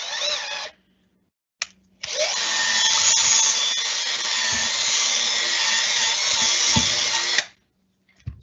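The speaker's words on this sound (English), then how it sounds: "this is an epoxy grout that I'm going to be mixing with a cordless drill" A cordless drill mixing epoxy grout whirs steadily at close range for several seconds, with a brief burst before it, grinding through thick material as it runs.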